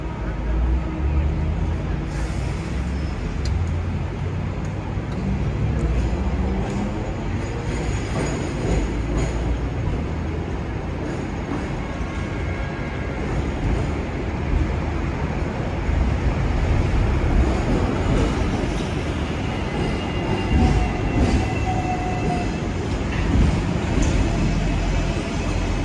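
A Hong Kong tram runs along urban street rails with a steady loud rumble, rattling wheels and faint squeals throughout, heard from on board with passengers faintly talking in the background.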